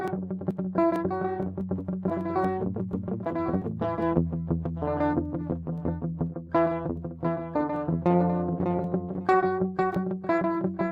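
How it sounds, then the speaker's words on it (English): Music run through the static distortion preset of a free VST effect plugin plays as a continuous buzzy, gritty stream of rhythmic tonal notes, fairly loud and alone, with no talking. "Here is static pretty much when it's in red."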